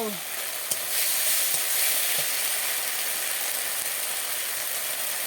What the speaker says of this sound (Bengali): মশলাটাকে ভালো করে কষাই করে নিলাম। মশলাটা ভালো করে কষে নেব।